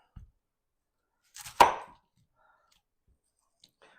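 A knife cuts a medium onion on a cutting board: one sharp, close chop with a brief rustle before it and faint small clicks afterward, otherwise quiet.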